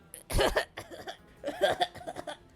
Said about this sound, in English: An elderly woman coughed aggressively.